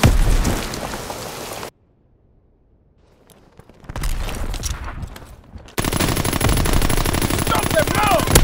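Gunfire in the World War II shooter game Call of Duty WW2: dense, loud rattling bursts of automatic fire that break off into near silence, then return as a thick, sustained barrage.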